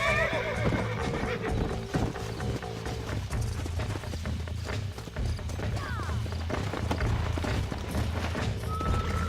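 Horses whinny and neigh over rapid clip-clopping hooves at a gallop in the video game Red Dead Redemption, busy and loud, with a few thuds.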